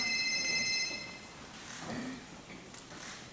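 A phone rings with a bright electronic tone for under a second, followed by a quieter stretch of background noise.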